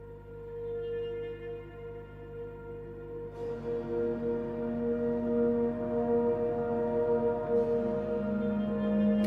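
Spitfire Audio LCO Textures Quantum patch, an evolving sustained orchestral texture with piano blended in, swelling from a soft hum into brighter held tones, played alone.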